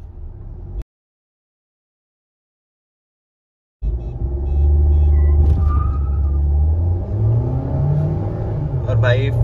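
A Mahindra XUV 700 accelerates hard in a drag race against a Toyota Fortuner 4x2, engine rumble building loud and close from inside the cabin after a brief silent gap, with speech over the rising drone.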